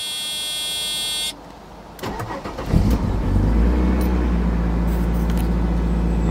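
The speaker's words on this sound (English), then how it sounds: "I'll give you guys a cold start" A Mercedes CLK55 AMG cranks over and fires on a cold start, the engine catching with a loud burst and then settling into a steady, throaty idle close by, after a brief high electronic whine.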